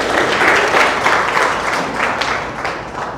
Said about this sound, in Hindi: अपने लिए भी नहीं ताली बजाते आप लोग.